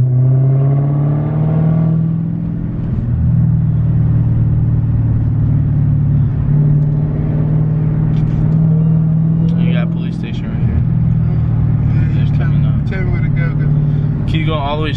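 A widebody Dodge Challenger Hellcat's engine drones and rumbles steadily as the car drives, loud and close inside the cabin, while people talk over it throughout.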